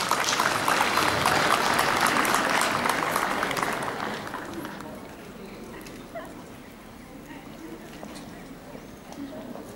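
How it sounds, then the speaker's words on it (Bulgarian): Applause from the audience at a school's opening ceremony for the new academic year, dense clapping that is loud at first and then fades into quieter scattered claps and room murmur. "Моля, аплодисменти."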